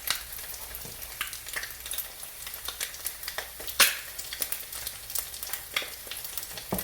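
An egg fries in a pan, a steady close sizzle and crackle with scattered sharp pops and spits throughout, no voices.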